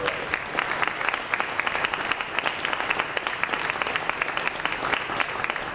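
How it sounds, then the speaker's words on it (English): Steady applause from the audience at a press conference of a future mobility advisory council, with many hands clapping. It runs loud and even for the whole stretch and stands alone, without talk. "Give them a round of applause"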